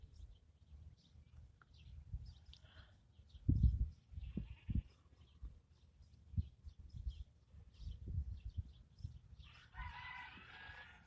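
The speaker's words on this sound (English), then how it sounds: "this morning the goats are being noisy" Goats bleat intermittently in the morning outdoors, a few short calls at moderate distance, with a rooster crowing and wild birds faintly in a quiet rural background.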